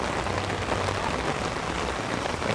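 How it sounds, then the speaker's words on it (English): Heavy rain pours steadily onto Dotonbori Street in Osaka on a September evening. It is a dense, constant hiss of drops hitting pavement, loud and unbroken, with no voices. "it is raining cats and dogs here in Osaka"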